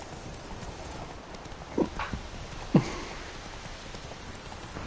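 Horse hooves clip-clopping in The Witcher 3 on a rainy night, two distinct hoof thuds standing out over a steady hiss of rain and ambient noise, with no galloping rhythm sustained.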